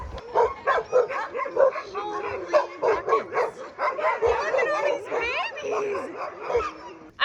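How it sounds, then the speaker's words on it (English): Several Alaskan Huskies at a sled dog kennel in Alaska bark, yip and whine in rapid, overlapping bursts close by, with a person talking now and then among them. "Dogs are barking."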